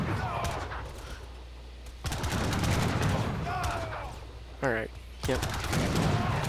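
Rifle gunfire from British riflemen and skirmishers trading volleys in Age of Empires 3's Napoleonic era, dense crackling shots and bursts at close range, with someone briefly speaking over the battle.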